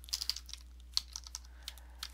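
Computer keys click in a quick, irregular run of sharp, close taps with short pauses between bursts, against a low steady hum.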